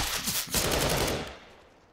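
Rapid automatic rifle fire from Counter-Strike: Global Offensive, two close, loud bursts separated by a brief gap, the second sustained longer before fading into a decaying echo.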